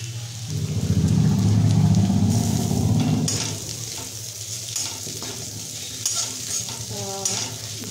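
Potatoes frying in a pan for jeera aloo, a loud hissing sizzle at first that settles into quieter crackling as a spoon stirs and scrapes, close by.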